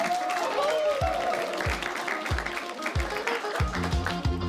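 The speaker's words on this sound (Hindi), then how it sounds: "तालियों के साथ please welcome Alana and Alaya" Audience applause welcoming twin contestants onto a Hindi reality show stage, clapping mixed with crowd noise over a thumping musical beat and sliding tones.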